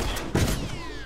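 A gunshot in The Last of Us online multiplayer on PS4 lands as one loud, close thump-like burst amid ongoing game noise, with no talk over it.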